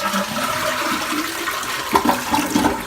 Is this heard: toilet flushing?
yes